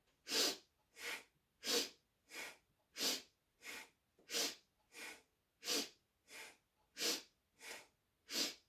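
Fast, rhythmic breathing in and out during a home exercise routine, about thirteen sharp breathy pulses in an even pattern, close to the microphone and quiet overall.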